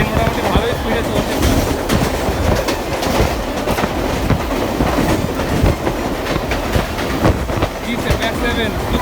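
Howrah–Haldia fast local electric train running at speed on rails, a loud continuous rumble with rhythmic clickety-clack of wheels over joints, heard from inside the carriage.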